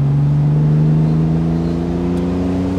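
A 1967 Aston Martin DB6 Volante convertible drives close by on a rural farm road, its engine holding a loud, smooth drone that rises gently as it accelerates, with no talking.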